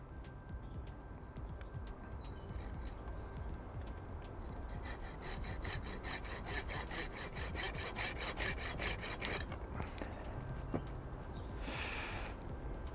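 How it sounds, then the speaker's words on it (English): A steady back-and-forth rasp of a hand saw cutting a Pinus mugo branch, strokes quickening midway, with faint birdsong in the background. "Actually, I'm not pruning, but sawing it away."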